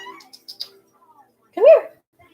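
A house cat gives a single clear meow close by, preceded by a few soft faint sounds and otherwise quiet surroundings.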